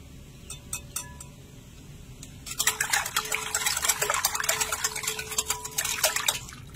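A whisk stirring powdered milk and lemon juice in a bowl: a few light taps, then a quick, busy run of clinking, scraping strokes against the bowl, fairly close.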